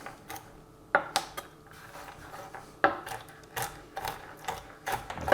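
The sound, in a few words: crushing roasted hazelnuts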